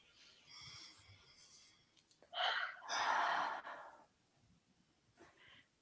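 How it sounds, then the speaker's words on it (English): A group of women draw a deep breath together and let it out in a long, audible sigh, with soft breathy inhales and a fuller shared exhale that rises and fades. "So let's just take a breath with that."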